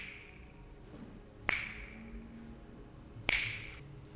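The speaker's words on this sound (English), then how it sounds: "I could just snap my fingers" Two crisp finger snaps, close and clean, spaced about two seconds apart over a quiet room background with a faint hum.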